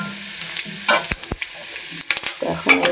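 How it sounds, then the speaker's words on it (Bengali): Whole spice tempering goes into hot oil with reddened fried onions in a Bengali banana flower fry, giving a close, crackling sizzle punctuated by sharp spoon knocks and stirring scrapes, no voices. "এখন কিন্তু আমি এই যে দিয়ে দিচ্ছি ফোড়ন"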